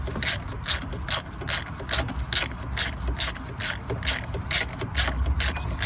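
Ratchet with a 12 mm socket loosening a battery bolt on a 2009 Hyundai Santa Fe, a close, steady run of rapid clicking bursts repeating at an even rhythm.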